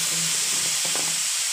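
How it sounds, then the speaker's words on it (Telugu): Hot oil hitting a cooking pan while preparing dal rasam and dry fish gives a steady, close sizzling hiss for a moment, then thins out toward the end. "ఆయిల్ వేద్దాం మేము"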